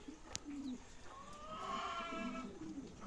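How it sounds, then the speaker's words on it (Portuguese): A young pigeon of about four to five months, kept in a loft, gives soft low coos, faint against light background noise. "E, inclusive, um pombo muito bonito"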